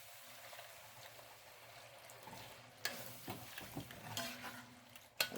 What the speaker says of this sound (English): we're going to stir it good and let it get thick again